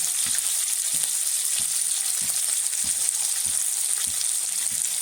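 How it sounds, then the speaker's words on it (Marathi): Stuffed brinjals frying in a pan over a medium flame, a constant loud sizzle with soft regular scraping thuds as they are turned, no voices. "थोडा हलवून घेऊ दुसऱ्या बाजूला गॅस मिडियम ठेवायची नाहीतर वांगे खाली करपतील"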